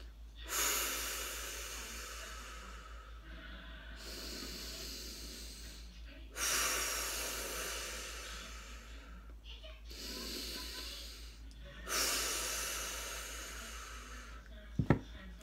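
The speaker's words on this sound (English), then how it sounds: "Take 3 deep breaths" Deep breaths come in slow rounds, about four long airy inhales and exhales with quiet pauses between them, close and soft, and a brief sharp knock near the end.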